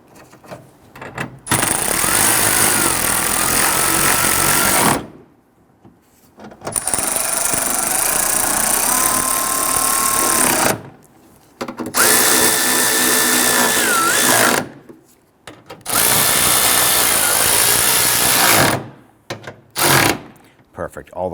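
Power tool snugging down starter bolts on a 2007-2014 Cadillac Escalade 6.2L V8: four loud, close bursts of motor whine lasting a few seconds each, separated by short pauses.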